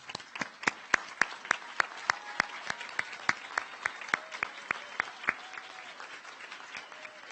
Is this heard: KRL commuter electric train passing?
no